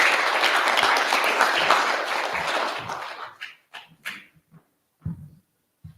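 An audience at a recovery foundation's spiritual service breaks into loud, dense applause that fades away, leaving a few scattered, isolated claps near the end.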